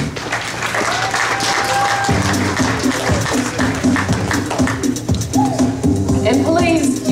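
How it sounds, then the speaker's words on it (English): Audience applause at a wedding reception, steady clapping from a crowd throughout, mixed with background music and some chatter. "please give a hand clap to our hostesses and our ushers"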